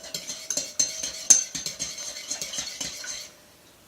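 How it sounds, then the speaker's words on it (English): Eggs being stirred with lemon juice and zest in a bowl for lemon bars, giving a steady run of quick clinking utensil taps against the bowl that stops near the end. "Before we add anything else, we'll just stir this a little bit."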